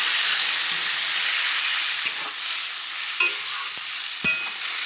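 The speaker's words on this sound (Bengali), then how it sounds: "তো এবার এখানে দিয়ে দিচ্ছি এই যে সর্ষে বাটা" Mustard paste frying in a pan with vegetables for a Bengali shukto, a steady close sizzle with a few sharp scrapes of the stirring spoon spread through, no voices.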